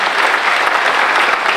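A church congregation breaks into loud, steady applause during a Sunday morning service, a dense wash of many hands clapping at once without any speech over it.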